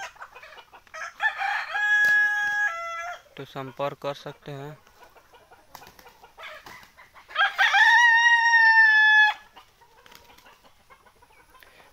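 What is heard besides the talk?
free-range desi Sonali chickens and roosters crowing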